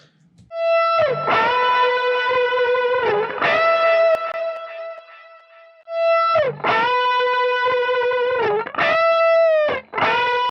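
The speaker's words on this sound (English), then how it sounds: "It's got the delay and the reverb." Electric guitar lead phrases with sustained, singing notes and bends, washed in echoing delay and reverb, played in bursts with short pauses between.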